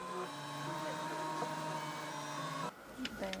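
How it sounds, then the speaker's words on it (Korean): A 3D bioprinter hums and whines steadily as it prints the outline of regenerated skin, a mechanical tone with shifting pitches that cuts off near the end, followed by a few faint clicks, with a voice talking over it. "프린터에서는 환부와 똑같은 모양과 크기의 재생 피부를 만들게 되는데 먼저 테두리부터 만들어줍니다."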